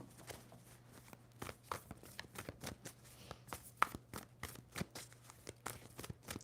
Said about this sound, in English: Two more shuffles for Sagittarius.